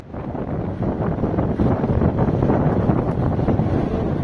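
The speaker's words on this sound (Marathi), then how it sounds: "घाट रस्ता चढाईचा रस्ता आणि त्यात वाऱ्याने आपली गती पकडलेली आहे" Steady roaring wind buffets the microphone on a steep mountain road from Leh to Pangong, a dense low rumble with a faint engine-like drone underneath, continuous and loud throughout.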